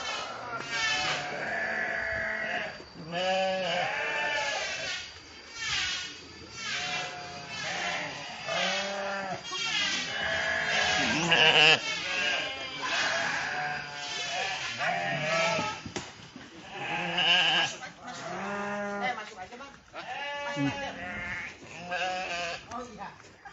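Sheep kept for sacrificial livestock on a farm in Kalijati, Subang bleat repeatedly and loudly, several animals calling close by in overlapping, wavering cries, with someone talking between them.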